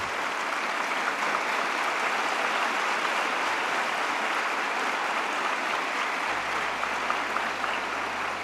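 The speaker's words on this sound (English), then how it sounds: "A big round of applause." Large audience at the Sri Sathya Sai Award for Human Excellence ceremony in Muddenahalli claps in a dense, even wash of applause that holds steady and loud throughout, with no voices over it.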